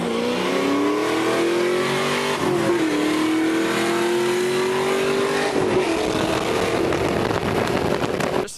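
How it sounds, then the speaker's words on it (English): A Honda Civic engine revs hard through a downshift, then pulls up through the gears under full throttle. The note stays loud and close throughout, with no talk over it. "So I dropped a few gears, pulled up next to him and floored it."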